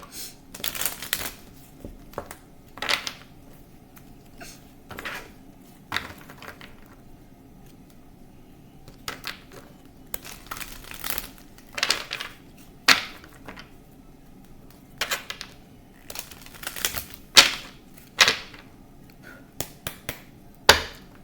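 Cards being shuffled in quick riffles and snaps, a series of sharp bursts spaced irregularly with quiet gaps between.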